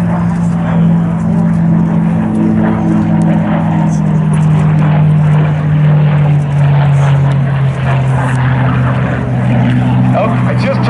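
A WWII Grumman Wildcat propeller fighter drones loudly and steadily overhead at the Wings over Houston air show, its engine pitch sliding slightly lower, with an announcer talking over it throughout.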